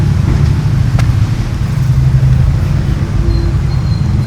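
A Porsche Cayman drives past on a town street with a steady, close engine rumble and road noise that hold at an even level throughout.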